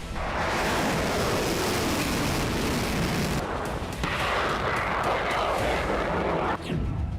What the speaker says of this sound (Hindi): कीव के अलग अलग इलाकों से धमाके की आवाज सुनी गई है।